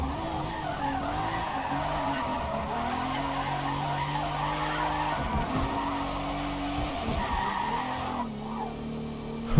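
Racing car drifting in the Forza Motorsport video game, its engine droning at varying pitch under a long continuous tire skid and squeal that runs the whole time, close and steady, with no voices.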